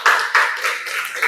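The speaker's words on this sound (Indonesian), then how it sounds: "Oke, tepuk tangan untuk Andrian." Several rounds of clapping from a classroom group, loud and close, with bursts renewing every few tenths of a second over about a second and a half.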